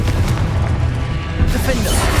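A Confringo blast spell explodes in the Hogwarts Legacy video game with a heavy, dull boom and rumbling noise, mixed with a shouting voice during the fight.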